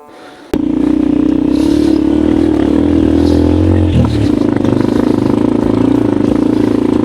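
A Yamaha Mio scooter rides a mountain backroad between Nueva Vizcaya and Benguet. Its engine kicks in sharply after a short pause, then holds a loud, steady drone close to the recording, with one brief dip and recovery midway.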